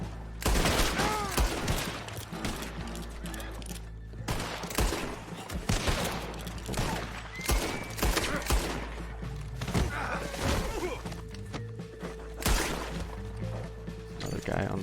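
Gunfire in Red Dead Redemption 2 during single-player play, with repeated loud shots and crashes in an irregular rhythm over dense game sound while someone talks throughout.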